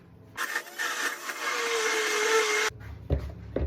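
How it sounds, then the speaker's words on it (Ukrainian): A blender purees mango, whirring loudly for about two seconds after a brief start, then cutting off, followed by a few knocks and handling sounds. "Заливаємо і збиваємо блендером."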